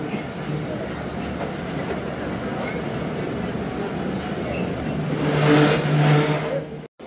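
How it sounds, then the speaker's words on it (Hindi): A passenger train arriving at Multan Cantt station rumbles in steadily with clattering wheels and a brief high squeal as it slows. The sound is loud and continuous, with faint station noise around it. "11 बजे ट्रेन का अराइवल हो गया हमारी और आधा घंटा लेट आई है।"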